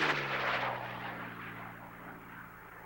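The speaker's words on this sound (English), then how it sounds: "There's the mayday aircraft making a safe landing" A propeller aircraft landing at the Reno Air Races after a mayday call, its engine a loud rumbling drone that fades steadily into the distance over a few seconds.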